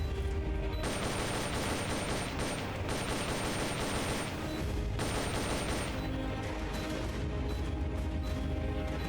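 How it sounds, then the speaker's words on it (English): Sustained light machine gun fire in Metal Gear Solid: Peace Walker, a dense, continuous rattling burst that fills the scene, loud and close, with a brief lull midway before the automatic fire resumes. "Getting suppressed by the LMG."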